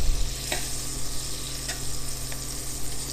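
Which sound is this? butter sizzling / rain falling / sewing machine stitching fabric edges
butter sizzling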